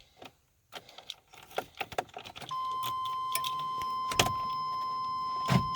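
Keys jangle near the ignition of a Ferguson TO-35 tractor, a few metallic rattles and clicks over a steady electrical hum after the key comes out with the ignition still on.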